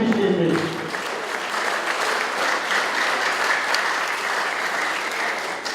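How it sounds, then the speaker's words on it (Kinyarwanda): Wedding guests clap for the couple, a dense, sustained round of applause filling the room at even strength throughout, with no clear voices. "tubaha amashyi menshi cyane tubishimiye"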